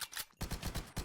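Rapid automatic gunfire from a gun in the Minecraft game, a dense, loud burst of repeated shots that pauses briefly and then resumes in a steady rattling stream.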